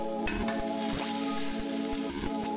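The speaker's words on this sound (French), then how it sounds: "là tu vas mélanger du cru, du magret" Raw duck breast and egg are stirred in a hot frying pan as an omelette. A steady, close sizzle runs throughout, broken by soft scraping strokes of the utensil.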